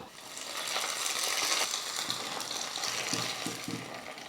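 Hot tempering of mustard seeds, urad dal and curry leaves in oil hits the chutney, giving a dense steady sizzle with faint crackles, close and continuous throughout.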